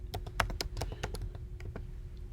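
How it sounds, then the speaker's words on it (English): Someone types a search on a computer keyboard, with a quick run of crisp key taps close by, some faster than others, and faint background hum. "if you were to just type in vegetarian or vegetarianism"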